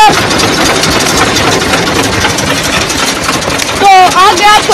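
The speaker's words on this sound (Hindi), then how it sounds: "ट्रैक्टर की आवाज़ काफ़ी ज़्यादा है" A tractor engine runs loud and close, a steady rough rumble that swells in a brief burst near the end.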